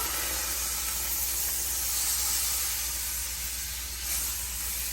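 Butter sizzling in a pan while cooking tilapia and vegetables, a continuous bright hiss that stays fairly even and close throughout, with no talking.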